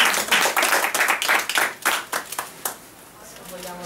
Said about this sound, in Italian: E allora facciamo un applauso a Carmelina